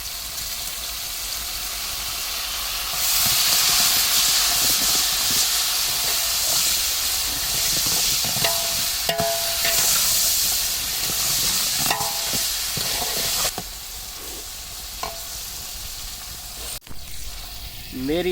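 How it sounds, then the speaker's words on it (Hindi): Tomatoes dropped onto browned onions in a large pot of village biryani, a loud continuous sizzle and steamy hiss with occasional stirring scrapes, close and steady throughout. "माशाल्लाह प्याज ब्राउन हो चुके हैं, अभी टमाटर डाले जा रहे हैं उसमें।"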